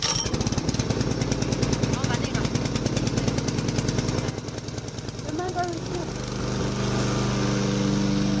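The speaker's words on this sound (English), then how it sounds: "Now let's start the engine for mowing." The pull-start engine of a radio-controlled robotic lawn mower is pulled to start and sputters into a steady rattling run, with a brief quieter dip midway before the drone settles and continues.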